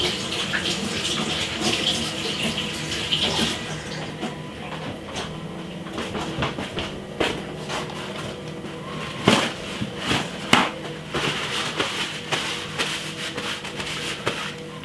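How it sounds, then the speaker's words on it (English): Tap water runs steadily while hands are washed in a home kitchen during meat seasoning, a continuous broadband rush with scattered splashes and rubbing clicks, close and moderately loud, no talking. "I'm gonna wash off my hand."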